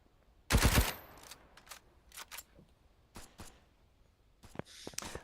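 Gunfire rings out from sniper towers in the battle royale game Fusion BR, opening with a loud burst of rapid shots, then scattered single cracks and clicks at varying distances.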